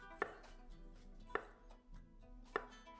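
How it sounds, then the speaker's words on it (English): Knife chopping potatoes for a Spanish tortilla: three sharp, evenly spaced cuts against a board, about a second apart, close and clear with no talking. "now it doesn't matter how long it takes to cut up these potatoes"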